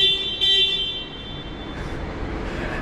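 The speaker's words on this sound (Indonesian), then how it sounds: "Bunyi klakson standarnya seperti ini." A Suzuki Jimny's standard car horn blares in a short, loud honk, then a second fainter toot follows over a low engine and road rumble.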